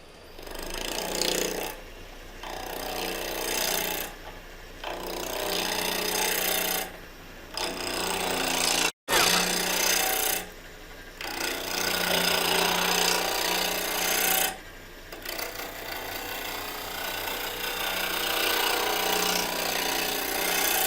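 Spindle gouge cutting a thrift-store glass-and-wood vase blank on a lathe spinning near 2,000 RPM, loud rough scraping and rumbling in repeated passes separated by brief pauses, with no voices.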